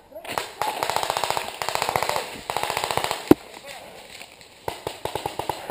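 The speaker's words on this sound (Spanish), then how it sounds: "¡Ah, sigue los tiros, ¿no?" Paintball guns fire during gotcha training: bursts of rapid clattering shots in quick volleys with a brief pause, then a sharp single crack and another burst, while players shout nearby.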